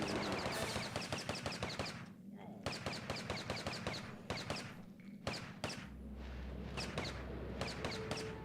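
Gunfire in the PS1 game The Lost World comes in rapid, rhythmic automatic bursts, loud and close, broken by brief pauses and joined by low thuds and a voice now and then.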